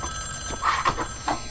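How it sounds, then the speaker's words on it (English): A telephone rings in Wolfenstein: The New Order, with a short burst of bright, trilling bell tones, fairly close and alone. "Uh-oh, phone's ringing."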